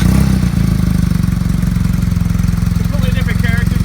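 A 2018 BMW R nineT Racer motorcycle idles close by with an upgraded aftermarket muffler, giving a steady, loud, throbbing low pulse throughout while a voice talks over it.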